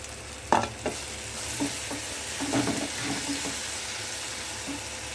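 Chopped tomatoes sizzle gently in a pan for gongura chutney, with a few close stirring clatters and scrapes over a quiet, steady frying hiss.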